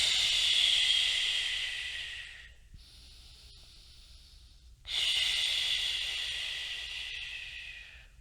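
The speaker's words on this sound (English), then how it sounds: "And then I can either exhale to relax, or I can exhale to engage." Slow, deliberate exhales in a side-lying breathing drill, two long airy breaths with a quiet pause between, close and soft.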